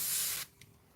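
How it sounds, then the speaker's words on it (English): An airbrush sprays a water-based wash onto a mask in one loud, steady hiss that cuts off abruptly, followed by a brief faint puff of air. "when you're airbrushing these washes, you're basically spraying water"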